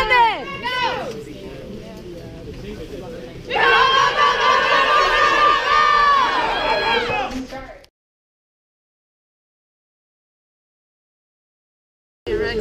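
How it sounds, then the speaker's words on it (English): Spectators at a men's speed skating World Cup race in Whistler cheer and shout for a skater, a loud, excited crowd roar with high voices swelling for several seconds, then cutting to silence. "We're going to cheer on Ander Mirambel"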